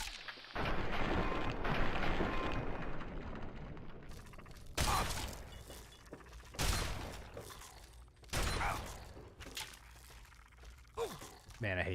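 Fallout 3 combat unfolds with heavy gunfire and booming explosions in repeated loud bursts separated by quieter stretches, while a player talks throughout.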